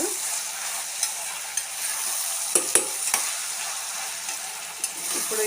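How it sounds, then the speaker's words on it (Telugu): Ridge gourd pieces sizzle in a cooking pan while being stirred, a steady close frying hiss broken by a few light scraping knocks. "ఈ బేరకాయ ముక్కలన్నీ వేస్తాం కదా ఒకసారి బాగా కలిసేటట్టు అయితే కలిపేసుకోండి"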